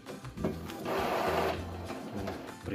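An Epson L355 inkjet printer starts up again after a restart. Its mechanical whirring and clicking swell in the middle, then settle into steady running noise close by, with no talk.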